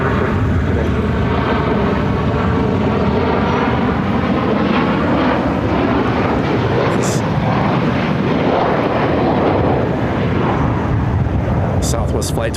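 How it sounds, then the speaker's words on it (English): A Southwest Boeing 737-800 arriving from San Jose rumbles with a loud, continuous roar at Phoenix airport on a gusty day, with people talking over the engine noise. "Southwest Flight 2108 coming in from San Jose on a 737-800"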